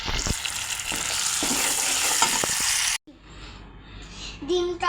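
Tomatoes and spices frying in a pan for pasta give a loud close sizzle with stirring clatter, cutting off abruptly halfway into quieter background sound with a brief tonal voice.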